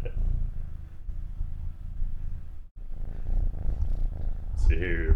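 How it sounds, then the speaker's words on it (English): A kitten's steady, rumbling purr close to the microphone, continuous with a brief pause, and a voice speaking briefly at the end. "Listen to that purr go."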